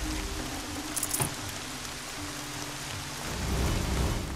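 Heavy rain in Horizon Zero Dawn hisses steadily, with a brief crackle early on and a low rumble of thunder swelling near the end.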